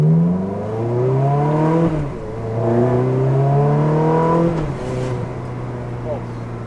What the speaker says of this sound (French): Passage des rapports, c'est violent quand même.